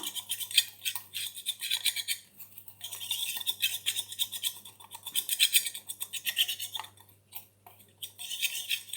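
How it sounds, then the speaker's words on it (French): A homemade dry shampoo mixture is stirred by hand in a small container, giving a close, continuous scratchy scraping with faint clinks throughout, and no voices. "On remue bien."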